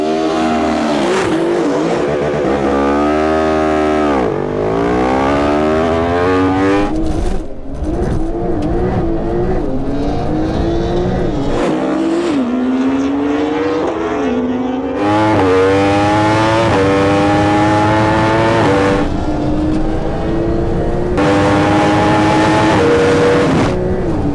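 A Porsche Turbo S and a superbike launch side by side in a drag race, engines screaming up through rising gear sweeps in repeated loud bursts, with a pause midway before another hard run.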